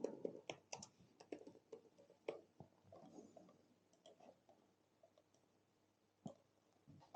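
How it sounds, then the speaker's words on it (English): Computer keyboard keys click sparsely and lightly in short irregular runs, quiet and close, with long gaps between taps and a single louder knock at the very end. "So if I just type in Happy Gilda"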